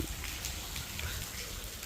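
Steady, close rainfall on Buddhist Lent day, 1 August 2023, a dense continuous hiss of drops striking surfaces with no break.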